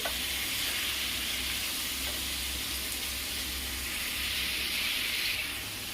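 Chicken masala frying on a high flame produces a dense, unbroken sizzle up close, a bright steady hiss that holds at constant loudness throughout with a faint lower rumble underneath.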